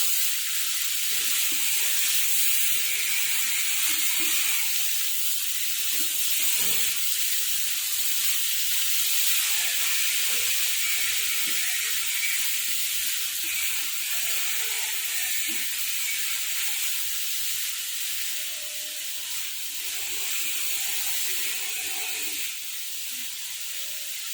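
Amaranth greens and potatoes sizzle steadily in a hot pan as they are stirred together, a dense continuous hiss with scattered soft scraping clicks beneath, close and fairly loud throughout.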